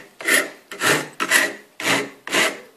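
A hand rasp shaping a piece of wood clamped in a vise, heard as five steady rough scraping strokes in an even rhythm, close and loud with no talking.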